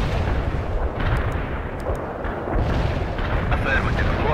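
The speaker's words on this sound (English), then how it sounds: "Light artillery barrage fired at coordinates." Artillery barrage in the World in Conflict video game, a dense continuous rumble of booming shell impacts and blasts, loud and sustained throughout with voices talking faintly underneath.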